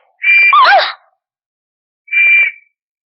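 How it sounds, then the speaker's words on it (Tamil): A loud, close whistle sounds from the stomach of a man who swallowed a whistle. A long warbling toot rising and falling in pitch is followed, after a pause, by a shorter flat blast. "வயிற்றுல இருந்து விசில் சத்தம் வருது"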